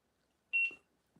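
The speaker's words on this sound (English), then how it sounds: "Kathy, I'm going to go to the timer" Timer beep at an antique bottle auction: a single short, clear electronic tone, fairly faint, in an otherwise quiet room with a soft trailing noise after.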